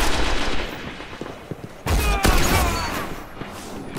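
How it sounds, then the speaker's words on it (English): In Destiny PvP gameplay, a shotgun fires a sharp booming shot amid other scattered gunfire and game effects, the blast standing out loud near the middle. "Random pot shot with a shotgun there."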